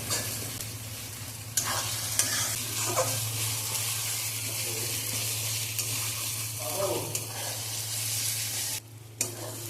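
Garlic and ginger fry in oil for an Odia-style mutton curry, a steady close sizzle with occasional stirring scrapes and a low hum beneath, no talk.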